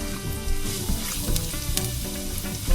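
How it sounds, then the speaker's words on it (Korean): Garlic and red pepper flakes fry in olive oil in a hot pan over medium heat, giving a dense, steady, close sizzle with light stirring throughout. "마늘하고 레드페퍼 프리크를 1분 동안 볶아주세요."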